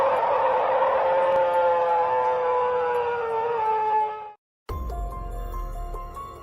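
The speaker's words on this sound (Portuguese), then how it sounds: "Alguns moradores relataram ouvir uivos distantes, longos e carregados de uma nota profunda que gelava o sangue." A long, sustained howl, like a wolf on a full-moon night, holds steady for about four seconds with a slight echo before it cuts off. A fainter, thinner howling follows after a short gap.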